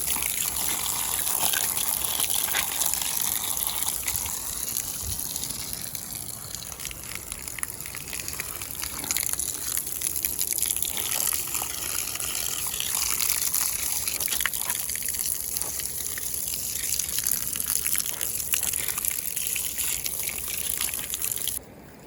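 Floodwater pours and gushes steadily after heavy rain in Shizuoka, a continuous rushing, splashing roar that holds at the same level throughout, heard outdoors with no talk.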